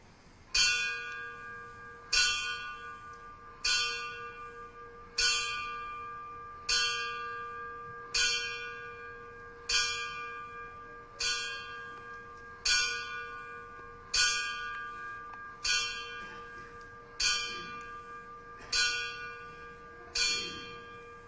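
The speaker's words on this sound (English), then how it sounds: "Chad Davis, will toll the bell 18 times for our recruits" A ceremonial bell tolls at a fire department recruit graduation, struck about fourteen times at a slow, steady pace of roughly one ring every second and a half, each clear ring decaying before the next, in a hushed setting without talk.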